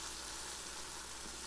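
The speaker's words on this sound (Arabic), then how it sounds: "نشوح البصل لحد ما ياخذ معي اللون الذهبي" Onions and tomato paste sizzle in a pot, a steady, soft frying hiss with small crackles throughout, fairly quiet and close, with no talking.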